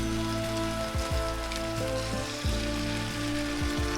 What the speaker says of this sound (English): I'm going to fry some of this.